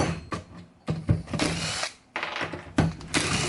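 Bursts of a power tool whirring and backing screws out, several short runs separated by brief pauses, close and loud.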